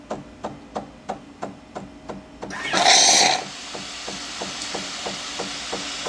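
A Jura J9 One Touch coffee machine froths milk for a latte macchiato. Rhythmic pump clicks lead into a short, loud burst of hissing, then a steadier hum with continued regular pulsing.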